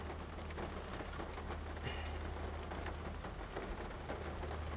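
Steady rain pours on a stranded car waiting for a tow, a dense continuous hiss with a low drone underneath, heard from inside the vehicle with no talking.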